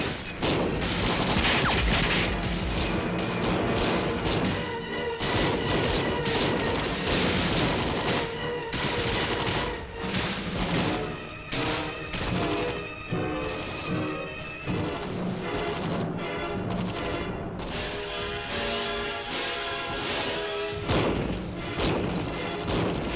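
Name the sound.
gunfire from riflemen in a Vietnam-era training film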